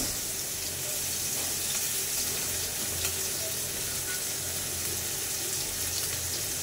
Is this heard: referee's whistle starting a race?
no